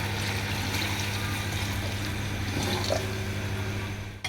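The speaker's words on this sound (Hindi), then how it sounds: "अब हमने जो यखनी तैयार की थी वो ऐड कर देंगे।" Meat stock pours steadily into a pot of mutton pulao, a soft continuous splashing and trickle over a low background hum, ending with a brief clunk.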